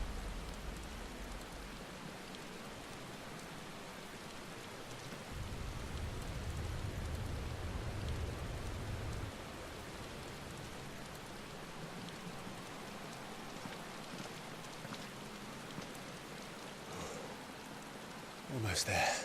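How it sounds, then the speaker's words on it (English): Steady indoor rain hisses in the Final Fantasy XVI video game, a soft continuous patter with low rumbling swells partway through and a brief louder burst at the end. "Why is it raining indoors? Is that like pure ether rain?"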